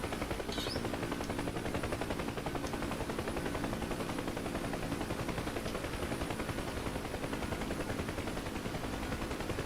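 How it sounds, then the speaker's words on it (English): A helicopter hovering in the DCS flight simulator, shaking as it nears the hover, gives a loud, dense, steady rotor chop and turbine roar that fills the whole stretch without pause and with no voices. "This helicopter is a bit more squirrely than the Mi-8s."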